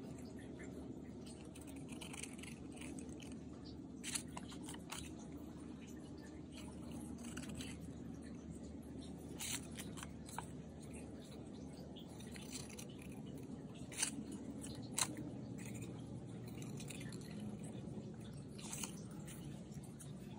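Scissors snip through pieces of paper for a craft project in scattered, faint cuts with short pauses between them, set against a low, steady room noise.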